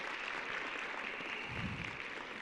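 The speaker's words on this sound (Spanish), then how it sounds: "Vamos a dar un fuerte aplauso." Congregation at an evangelical church gathering applauding as a guest is welcomed forward: a dense, steady wash of clapping, fairly distant and soft, that holds evenly throughout.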